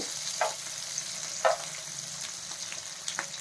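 Okra (lady finger) pieces frying in a pan, a low steady sizzle with a few sharp spatula taps and scrapes as they are turned, close and moderately quiet.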